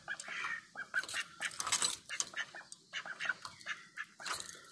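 Ducks quacking and chattering in short bursts, close by, as they enter a pool for the first time, with some scuffling between calls and no talking.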